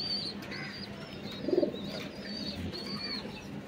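Pigeons in a home loft coo softly at moderate distance, with a brief louder throaty coo burst in the middle and faint chirps over a low background rumble.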